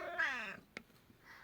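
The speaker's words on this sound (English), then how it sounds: "Greet the cat." A cat gives a single short, close meow, followed by a small click and quiet room tone.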